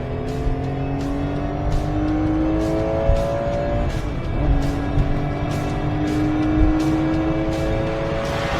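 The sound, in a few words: Singer-modified Porsche 911 downshifting and revving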